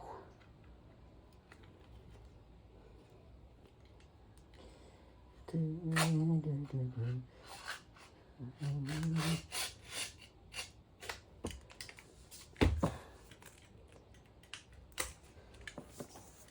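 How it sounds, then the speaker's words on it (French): A utility knife slices through the plastic wrapping of a Dualtron Victor electric scooter battery pack, giving faint scraping, rasping cuts and brief sharp clicks, with talk over part of it. "Voilà, on coupe avec le cutter."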